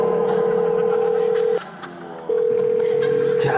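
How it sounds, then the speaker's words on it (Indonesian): A steady telephone tone holds for about a second and a half, breaks off briefly, then resumes, loud and close with faint background noise beneath. "Jangan angkat telepon itu."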